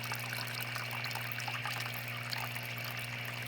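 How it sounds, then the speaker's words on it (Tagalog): Water is poured steadily into a home fish tank, a continuous close trickling splash at an even level throughout. "So, kailangan natin dagdagan ng tubig."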